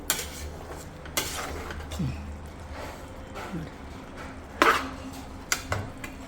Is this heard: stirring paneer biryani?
yes